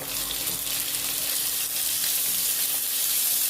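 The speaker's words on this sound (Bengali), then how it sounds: "বেশ ভালো করে ভাজা ভাজা হবে।" Onions with a little salt frying steadily in a pan, a continuous close hiss and sizzle at even loudness throughout, no voices.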